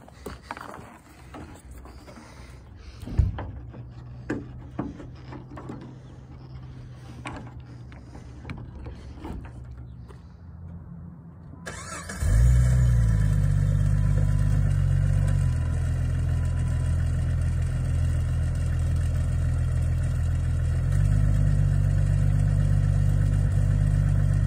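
A 1998 Jeep Wrangler idles quietly with some mechanical clicks, then its engine fires up at about twelve seconds into a loud, steady running rumble that holds with slight changes in level, close by, with no talk.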